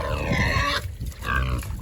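Pigs grunting and squealing close by while being loaded on a small farm, a loud harsh burst, a short pause, then another rough grunting call.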